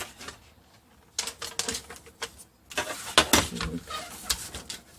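Paper being cut by hand for a flap on a vintage-style baby photo album, with a series of sharp snipping and crisp rustling bursts, close and fairly clear, in short clusters separated by brief pauses.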